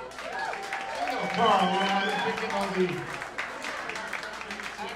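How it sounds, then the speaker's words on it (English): Concert audience applauding a band at a live show, a sustained burst of clapping with a swell in the middle, heard under someone talking casually into the microphone. "round of applause once again"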